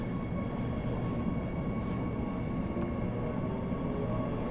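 A commuter train runs along the rails with a steady, continuous rumble and hiss, heard from on board at moderate loudness with no talking.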